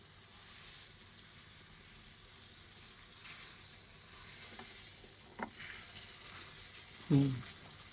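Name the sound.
hilsa fish frying in hot oil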